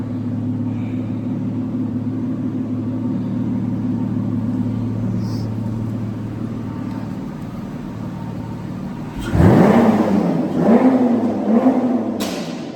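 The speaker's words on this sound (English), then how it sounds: "Just blowing stuff off the wall with my V12." A V12 car engine in a used-car dealership video game idles with a low steady drone, then revs sharply twice near the end, rising and falling loudly, with no talking.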